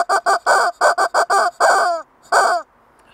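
A chicken clucks loudly and close up in a quick run of about eight sharp, evenly spaced clucks, ending in a longer drawn-out cackle, then a pause and one more squawk.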